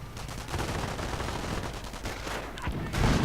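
Dense gunfire from a World War II strategy video game, overlapping rifle and machine-gun bursts rattling continuously at steady loudness with occasional heavier reports.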